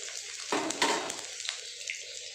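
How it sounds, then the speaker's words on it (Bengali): Chopped ginger drops into hot oil for chow mein with a short burst of close sizzling, then settles into a steady, softer fry with a faint hiss. "তেলটার মধ্যে দিয়ে দেবো আদা কুচি।"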